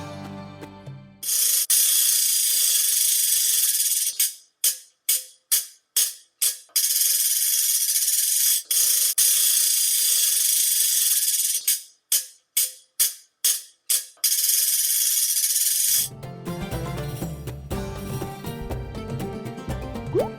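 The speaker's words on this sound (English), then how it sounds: "Ratchet" An Afghan ratchet rattles as a loud, continuous grinding clatter, broken into a run of quick, rhythmic bursts in the middle, then gives way to music at the end.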